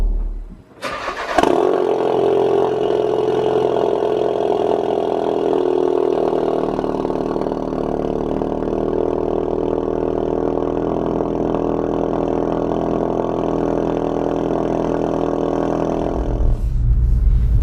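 A Mk3 Ford Focus RS with a new engine turns over and settles into a steady, throaty idle, loud and close, humming continuously for about fifteen seconds before a brief rev at the end.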